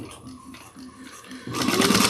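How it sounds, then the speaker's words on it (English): A sewing machine stitches drawstring satchel bag pieces at a 3/8-inch seam, first with soft rhythmic needle pulses, then breaking into a louder, faster whirring run close by. "you're going to sew at 3/8 of an inch"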